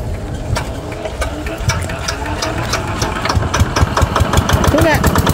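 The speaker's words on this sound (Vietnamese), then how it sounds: "Giờ cho nổ máy đi, chắc chắn là phải nổ đó," A Yanmar SS 80 single-cylinder diesel engine under repair fires up and runs with a rapid knocking chug that grows steadier and louder, while people talk nearby.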